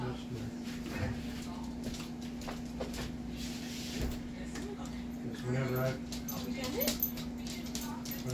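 A pet dog whimpers and yips at a house door, nearby and intermittent, mixing with a person talking over a steady low electrical hum.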